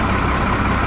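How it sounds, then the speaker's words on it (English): A first-generation Cummins diesel truck engine idling under electrical load with the lights and heater fan running: a dense, continuous low rumble heard up close for about a second. "It's loading up the engine a bit, I can hear that, but the voltage is staying the same."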